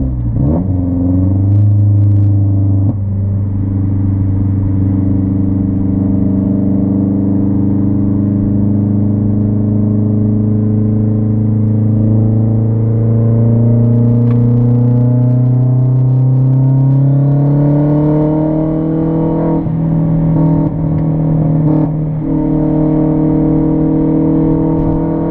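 A Mazdaspeed 3 with methanol injection makes wide-open-throttle pulls from about 3,000 to 6,500 RPM, its engine droning loud and close as the pitch climbs steadily, with a brief shift and a second rising pull.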